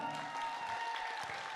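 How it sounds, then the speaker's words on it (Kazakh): A crowd at a wedding party applauds, a steady dense patter of clapping throughout a brief moment, with a faint tone underneath. "бір шапалақ ұрыш беріңіздерші Айжанға"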